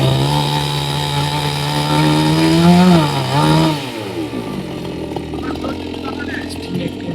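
A chainsaw cuts trees in a small garden field nearby, its loud buzzing engine holding steady, rising in pitch twice as it bites, then dropping to a softer idle.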